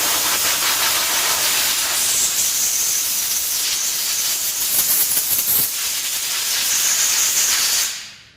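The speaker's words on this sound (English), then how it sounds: "I'm going to start by blowing it dry a little bit" Compressed air gun blowing water off a Murray Estate dual-stage snow blower during servicing: a loud, continuous high-pitched hiss of air that holds for about eight seconds before cutting off sharply.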